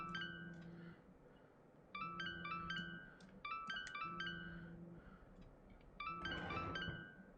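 A phone rings in the video game Tell Me Why, repeating bursts of a chiming electronic ringtone with short gaps between them, fairly quiet and heard alone.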